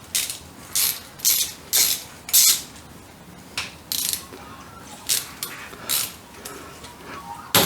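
A socket wrench with a 10mm socket, tightening an M6 cap screw, gives about a dozen crisp ratcheting bursts, close and clear, each a short, sharp clicking run with brief pauses in between and no talk.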